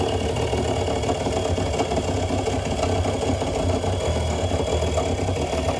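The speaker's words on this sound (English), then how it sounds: "bringing it in, that motor is grinding and it sounds horrible" An RV's main slide-out motor grinding as it struggles to retract the slide, a steady, loud mechanical drone with a rough, churning texture that runs unbroken throughout.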